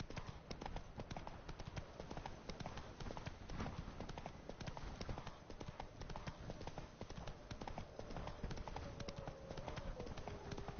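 Brisk, even hoofbeats as Roach, the horse from The Witcher 3, trots continuously over a dense bed of background game sound.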